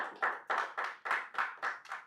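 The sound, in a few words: clapping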